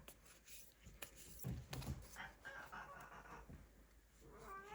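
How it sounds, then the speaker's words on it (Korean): Several house cats fight indoors with drawn-out yowls, wails and sharp squalls that rise and fall in irregular bursts. The sounds are quiet and somewhat distant in a hushed room. "저희 집에 고양이가 3마리가 있어서 좀 싸우고 있습니다."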